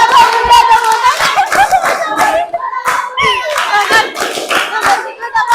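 A group of children and adults clap along to a chanted classroom clapping routine, sharp clustered claps falling in rhythmic bursts between loud sung-spoken chanting.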